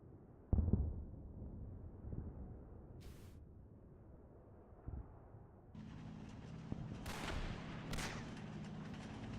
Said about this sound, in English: Let's see where these mortars are landing.